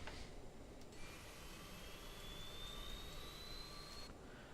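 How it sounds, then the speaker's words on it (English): The auxiliary power unit of a CRJ 900 airliner spins up as a steady, loud jet whine, with a thin tone rising slowly in pitch over a constant roar, heard from inside the aircraft. "And we can hear that the APU is starting."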